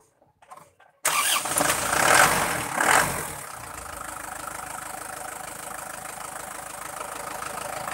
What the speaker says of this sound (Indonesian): Kita hidupkan mesinnya dulu teman-teman.